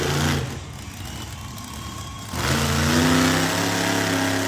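Monster truck Bad Decision at a muddy night show in Miami, Oklahoma: its engine drops to a lower rumble, then surges back into a loud, sustained rev held to the end.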